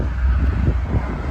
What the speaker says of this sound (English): Give you guys a little bit of the sound of the car